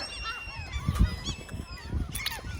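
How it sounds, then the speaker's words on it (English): Near a loch, a waterfowl calls with several nasal honks in quick succession, close and moderately loud over faint outdoor background. "There's a little duck."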